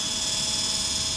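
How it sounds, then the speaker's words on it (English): A remote-control toy helicopter flies close by, giving off a steady, unbroken high-pitched motor whine with a faint hum underneath for the whole moment. "That's the helicopter."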